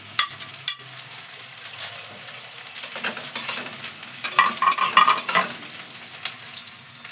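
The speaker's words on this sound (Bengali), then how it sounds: "এই যে পেঁয়াজ কুচোনো দিয়ে দিচ্ছি, বেশ খানিকটা পেঁয়াজ কুচি দিয়ে দিচ্ছি।" Chopped onion frying in a pan of hot oil with whole garam masala, a steady close sizzle broken by scraping stirs and a few sharp clinks, with a brief louder burst of crackle near the end, no voices.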